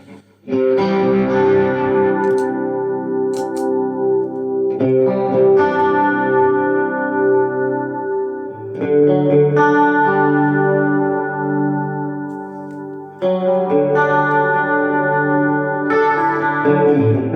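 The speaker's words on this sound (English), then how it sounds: "you get that really nice kind of 80s chorus sound" Electric guitar chords ring out with a lush, shimmering 80s-style chorus pedal effect, several sustained strums separated by brief pauses, played alone.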